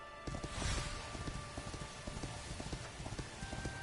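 Horse hooves clip-clop steadily in a rhythmic trot while riding through Dragon Quest XI, the footfalls close and clear over a soft ambient game background.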